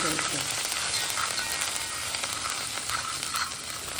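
Ingredients sizzle and crackle steadily in hot oil tempering as they are stirred in a pan for patvadi, close and continuous.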